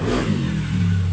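An electric fan's motor hums steadily while being tested during repair, a continuous low whirring drone that holds level for the whole moment.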